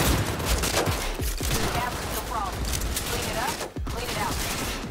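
Dense, sustained gunfire in the video game Cyberpunk 2077, overlapping shots in a busy firefight with someone talking over it.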